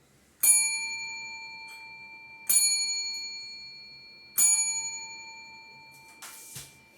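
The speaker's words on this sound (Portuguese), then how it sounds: "eles escutaram um sino 3 vezes assim." A bell rings three times, each strike clear and ringing out with a long decaying tone, evenly spaced, followed by a brief rustle at the end.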